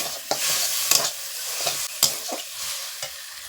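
A taro stolon curry with grated coconut is stirred in a hot pan, giving a few scraping strokes over a soft, steady sizzle at close range.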